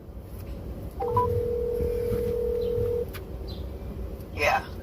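Phone dialing tones for a speakerphone call placed from inside a truck: a single long steady tone held for about two seconds over a low cab rumble, then a brief voice near the end.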